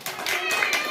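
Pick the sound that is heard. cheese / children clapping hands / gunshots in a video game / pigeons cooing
children clapping hands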